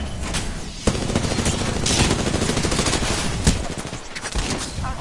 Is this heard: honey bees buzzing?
no